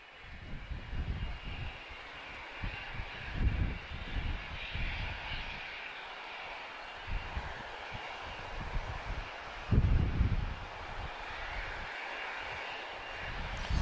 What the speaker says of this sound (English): We just have a Cessna 560 XL Citation just taxiing towards us as well